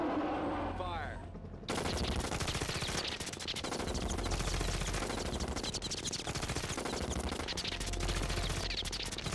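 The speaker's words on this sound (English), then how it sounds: "boys, lay down some cover fire." Sustained movie machine-gun fire lays down cover fire in a Korean creature action film, loud and dense after a short stretch of voices and effects at the start.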